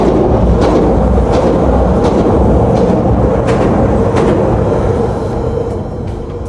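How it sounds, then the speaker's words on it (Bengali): A train passing overhead on a bridge above a cyclist on a sunny Saturday evening, a loud continuous roar with rhythmic clacks that begins fading toward the end. "উপর থেকে একটা ট্রেন যাচ্ছিল।"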